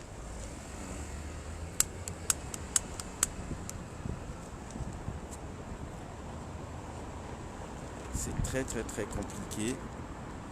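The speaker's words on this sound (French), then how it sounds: "Il y a beaucoup de vent." Strong wind blowing outdoors, a steady rushing roar buffeting the microphone, with someone speaking briefly and sharp clicks and clatters scattered through it.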